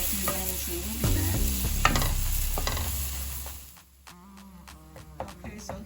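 Ground turkey sizzles and browns in a pan while a spoon stirs and scrapes through it. Clinks and scraping sounds punctuate the steady frying hiss, which quiets briefly before more scrapes follow.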